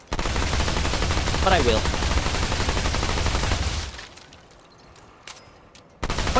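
SMG in Remnant 2, firing as a rapid, sustained burst of loud shots for about four seconds before cutting off, then a brief spurt of fire. A voice speaks briefly over it.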